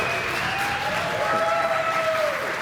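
A conference audience at PyCon UK 2019 applauds in a steady, moderately loud wash of clapping, with a faint tonal whine running under it.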